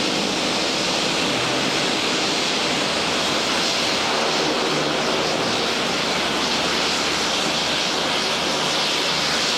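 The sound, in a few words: airplane taxiing on runway at Lukla Airport, Nepal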